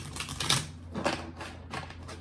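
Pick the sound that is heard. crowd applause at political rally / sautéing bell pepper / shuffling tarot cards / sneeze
shuffling tarot cards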